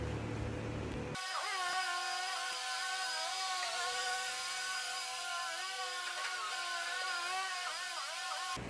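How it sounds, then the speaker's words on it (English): A Bobcat loader's bucket scrapes packed dirt away from the walls of a horse arena, spreading it along the track. A steady, loud mechanical whine with wavering tones holds continuously throughout, close by and with no talk. "my coach using the bucket of the bobcat to scrape away some of the dirt that's stuck by the walls"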